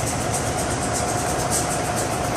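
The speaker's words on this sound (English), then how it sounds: "train's coming." A CSX train approaches a street crossing, a loud steady rumble of wheels and engine with a sustained high squeal and a faint tonal whine running throughout, close and continuous.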